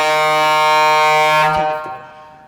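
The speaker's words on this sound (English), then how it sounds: "That's an air horn." A loud, sustained blast from a fire engine air horn, steady and brassy, that cuts off abruptly and fades away.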